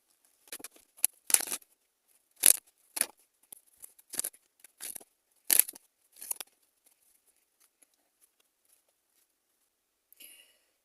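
Tarot cards are shuffled and pulled from a deck in a quiet room, a series of close, crisp papery slaps and riffles in bursts, then a few faint rustles near the end.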